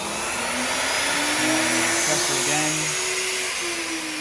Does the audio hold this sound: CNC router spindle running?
yes